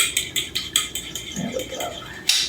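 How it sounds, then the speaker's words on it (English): Egg being whisked together with pork in a bowl: a rapid series of light clinking strokes against the dish, close and fairly quiet, followed by a soft stirring pause and one sharper knock at the end. "I'm going to go ahead and whisk this up with the pork"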